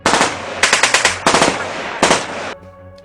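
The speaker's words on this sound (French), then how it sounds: "On a des obus, des mitrailleuses" Machine gun fire in a battle scene: several loud bursts of rapid automatic shots, each lasting about half a second to a second, separated by short gaps, then a fading ringing tail.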